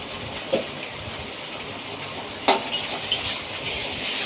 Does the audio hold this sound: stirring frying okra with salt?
yes